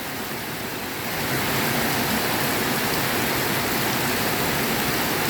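Heavy rain pours down in a dense, loud roar that swells after the first second and stays constant, no voices.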